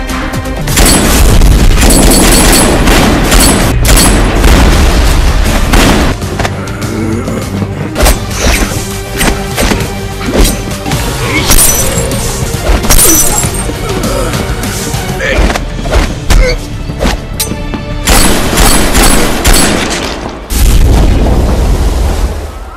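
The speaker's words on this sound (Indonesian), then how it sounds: "Yuri di sini mulai beradu peluru dengan Bang" Loud, dense gunfight in an action film: rapid bursts of gunshots and heavy booms and crashes in clustered volleys, with brief lulls between them and a renewed barrage near the end, amid dramatic music.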